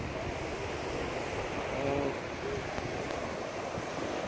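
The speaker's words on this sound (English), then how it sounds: "It is a little bit windy today." Wind buffets the microphone while surf washes in at Murrays Beach in Jervis Bay, a steady, loud roar of gusts and waves with a brief spoken word at the start.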